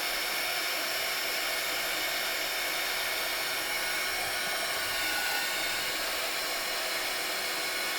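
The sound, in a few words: heat tool heating card material for junk journal cover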